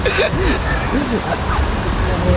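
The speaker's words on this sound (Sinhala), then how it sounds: "මහා වතුර පාරක් යනවා කියලා තේරෙනවා" Rushing stream water on a jungle trail through the Knuckles forest on the Duwili trek, a steady broadband roar throughout with voices talking over it.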